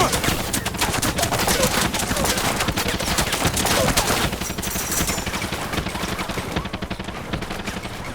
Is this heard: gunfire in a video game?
yes